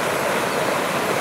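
A river flows beside the road to the Skok waterfall near Dimitrovgrad, giving a steady, close rushing of water with no voices over it.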